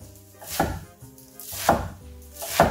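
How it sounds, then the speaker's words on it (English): Three firm knife strokes chop through pre-washed arugula on a board, each a crisp thud spaced about a second apart, close and clear with no talking. "Loosely chop the arugula and add it to the bowl."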